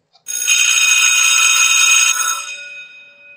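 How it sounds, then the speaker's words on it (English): A single bright bell rings loudly and continuously for about two seconds, then fades away, alone with no talking. "you heard the bell."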